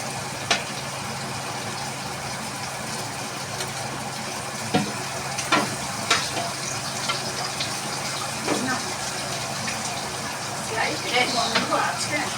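Onion and fish fry together in a pan, giving a steady crackling sizzle with scattered sharp pops and spits throughout, close and moderately loud.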